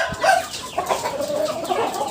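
Crossbred Bangkok fighting chickens cluck in a short run of close, moderately loud calls, with no talk over them.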